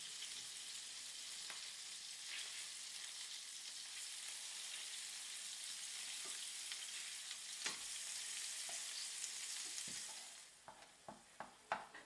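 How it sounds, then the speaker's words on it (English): Burgers sizzle in oil in a frying pan over medium heat, a steady, even hiss under a lid, ending with a few crisp clinks as the lid is handled. "fry the burgers over medium heat for 3 to 4 minutes with a lid on"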